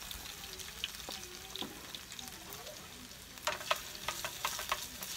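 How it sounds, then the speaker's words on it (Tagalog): Chopped ginger sautéing in a pan outdoors in a backyard cooking setup, a gentle sizzle punctuated by scattered clicks and scrapes of stirring, quiet and close. "Gisa lang natin tong luya hanggang maging aromatics"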